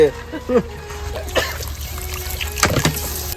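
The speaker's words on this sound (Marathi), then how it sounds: "थोडसा आपण पाणी घेतला कारण रस्सा पाहिजे आपल्याला" Water poured into a pot of live-caught fish curry being cooked outdoors, a short trickling and splashing under nearby talk, with a brief cough-like sound.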